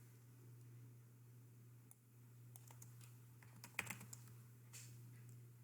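Quick bursts of typing on a computer keyboard, light close key clicks over a low steady electrical hum, with no talking.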